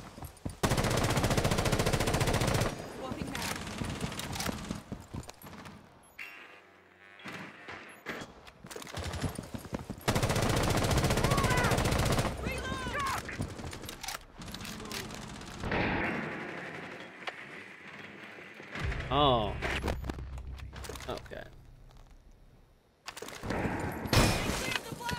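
Gunfire from a Rainbow Six Siege-style shooter on the Villa map, bursts of automatic fire and single shots hammering loudly in clusters, with pauses, game voice lines and a player talking in between.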